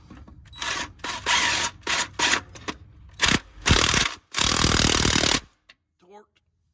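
A wrench tightens a new valve on an engine during a cam sensor repair, with close ratcheting clicks in short bursts and one longer run before it stops.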